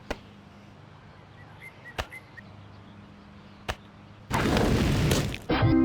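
Fireball pitch in the Backyard Baseball 2003 video game, starting as a sudden loud whooshing burst near the end after a few sharp clicks and thumps, then cut short by a brief, quieter hiss with no one speaking.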